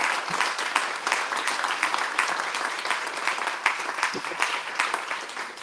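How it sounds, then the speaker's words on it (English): An audience at a gathering honoring supporting agencies and nonprofits applauds together, dense steady clapping sustained close by for several seconds. "all together we applaud one another."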